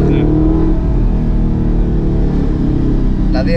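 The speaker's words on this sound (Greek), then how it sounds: "Έχει ξεχωριστό ήχο, ρε φίλε, το αυτοκίνητο." An Audi R8 sports car's engine drones loud and steady from inside the cabin during a test drive, a continuous deep roar with little change in pitch.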